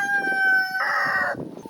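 A farmyard rooster crows once, loud and close, a long sustained call with a strong harmonic line that lifts in its middle part and then falls off into quieter background sounds.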